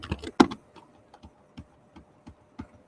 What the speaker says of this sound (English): Turns out typing in front of people is kind of hard.